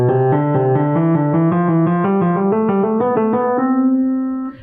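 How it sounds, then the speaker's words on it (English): Piano notes run steadily in a scale exercise with a repeating pattern woven through it, even rhythmic steps climbing and turning back before settling on a final sustained chord, close and clear with no talking. "I'm playing a scale with a little bit of a pattern mixed in"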